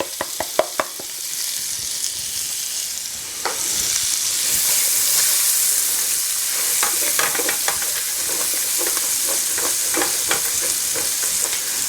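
Chopped onion hits a hot pan for homemade marinara: a steady, loud sizzle with stirring scrapes and clacks, the frying growing fuller and continuous after the first few seconds.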